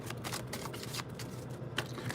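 Tarot cards are shuffled softly and close up in a quiet room, giving a run of quick papery riffles and taps for about two seconds with no talking.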